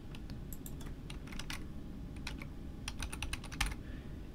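A folder name is entered on a computer keyboard, heard as bursts of close, crisp key clicks in uneven runs over a low background hum, with no voice.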